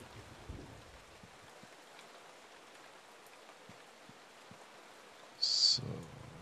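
Quiet, steady rain in the video game Eternal Darkness, a soft continuous patter with scattered drips, broken near the end by a brief, sharp, louder high-pitched sound.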